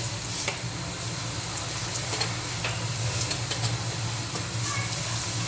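Onion-garlic masala sautéing in a pan for dal dhokli, a steady broadband sizzle with light intermittent ticks and scrapes from stirring, fairly close and continuous throughout with no talk.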